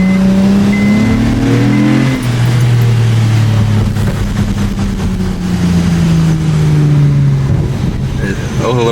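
A 2008 Honda Accord V6 fitted with a Weapon R cold air intake revs loudly from inside the cabin, its engine pitch rising and falling in long sweeps, with a voice speaking over it.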